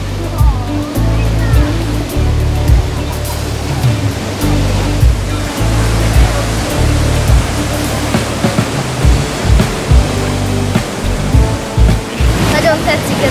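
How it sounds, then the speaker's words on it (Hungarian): The Alpatak waterfall, seen on a forest school trip, pours in a steady, loud, close roar of rushing water, with low rumbles and thuds mixed in and voices faintly underneath. "alpataki vízesés, megyünk megnézni."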